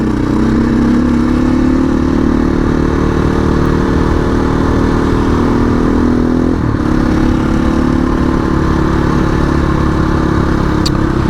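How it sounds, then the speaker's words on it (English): A fully loaded Sherco 500 adventure motorcycle idles along slowly over about two inches of loose gravel, its steady, loud engine note holding close and constant with a brief dip partway through. "Cruises along fully loaded like this, I can just idle it along in some sort of loose gravel"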